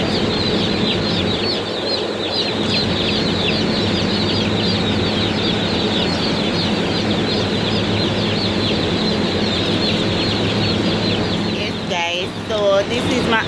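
Baby chicks on a poultry farm fill the space with dense, continuous high peeping and chirping, loud and close throughout, with scattered clucks and a brief rustle of movement near the end.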